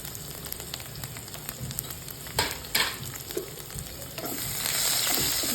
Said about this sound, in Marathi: जिरं फुललं आता हिंग आणि आता लसूण लसूण खूप सारा टाकायचा